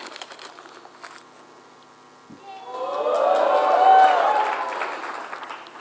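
An audience bursts into cheering and applause, swelling from quiet to a loud, sustained crowd roar with whoops before fading slightly.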